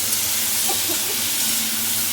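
Vegetables fry in oil with bay leaf, dried chilli and cumin for a moong dal khichuri, a continuous even sizzling hiss heard close and alone.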